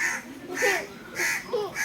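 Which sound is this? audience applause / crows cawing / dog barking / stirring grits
crows cawing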